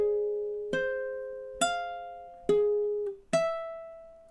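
Slow, sparse ukulele notes from measure 10 of a Hawaiian song, five clear plucks spaced evenly, each ringing out and decaying, played close and quiet with no voice.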